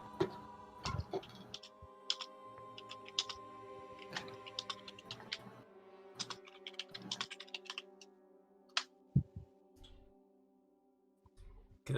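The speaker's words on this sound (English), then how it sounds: "got to focus on typing" Someone types on a computer keyboard in quick, irregular bursts of clicking keystrokes, close and fairly quiet, continuing through the whole stretch.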